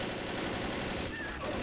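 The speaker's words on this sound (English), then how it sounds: "I'm shooting right in their face." Dense, continuous automatic gunfire as zombies are shot in Left 4 Dead, a steady rattling wash of shots filling the whole stretch at fairly low level, with no speech over it.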